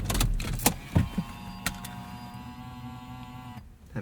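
Steering column tilt motor in a 1998 Lexus GS 400, heard as a close electric whirring rattle inside the cabin, preceded by a few sharp clicks and knocks, then stopping abruptly.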